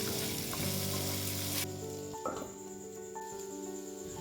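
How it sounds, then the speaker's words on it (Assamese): Potatoes frying in spices in a pan, a continuous close sizzle and crackle with some stirring, loud at first and settling slightly lower partway through, with no voices. "মছলাখিনি ভাজি হোৱাৰ পিছত প্ৰথমে আলুখিনি ভাজি ল'ম"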